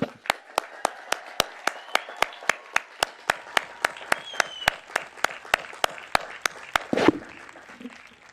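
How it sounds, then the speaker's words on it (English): Audience applause at a 2021 college commencement ceremony for the graduating class of the College of Health and Education, steady claps with sharp regular beats from a nearby clapper over the crowd, ending in a brief rustle after about seven seconds. "ladies and gentlemen, class of 2021, let's give them another round of applause"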